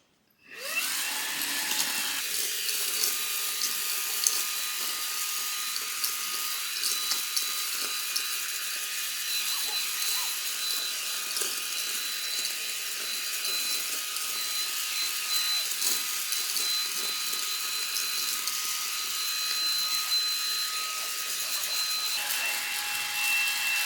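A Xiaomi Mi Vacuum Cleaner Mini handheld vacuum switches on and runs with a loud, high-pitched motor whine and airy rush, close up and steady throughout.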